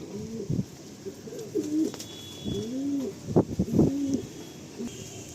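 Bali line pigeons, a male and female pair, cooing close by in repeated low rolling phrases, with a few brief louder bursts and faint high chirps in the background.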